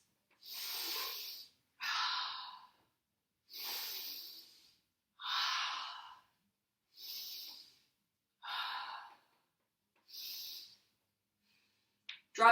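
Slow, deliberate breaths held in a high plank yoga pose, with about seven long airy inhales and exhales evenly spaced and alternating, close and clear against silence.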